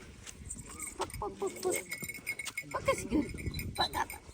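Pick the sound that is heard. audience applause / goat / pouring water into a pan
goat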